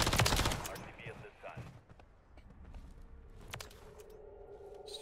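A turret in Call of Duty: Modern Warfare III fires bursts of gunfire, a loud sharp volley at the start and then scattered shots and impacts further off, with game footsteps and effects in between.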